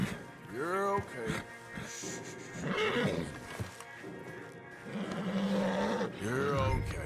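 A spirited Arabian stallion neighs and whinnies repeatedly in the Red Dead Redemption II game world, with hoof clip-clop and someone speaking softly between the calls.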